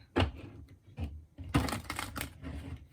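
Cards are shuffled close up in a few quick papery bursts, with soft clicks and snaps between the riffles.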